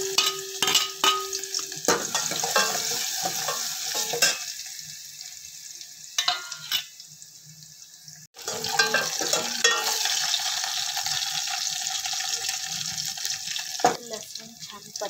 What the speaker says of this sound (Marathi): जाडसर वाटलेला लसूण टाकते आहे।